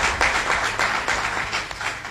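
An audience at a press conference in Niger applauds with steady, moderately loud clapping that holds for a couple of seconds without speech over it.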